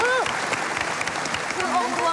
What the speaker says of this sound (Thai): ปรบมือให้น้องทุกคนเลยครับ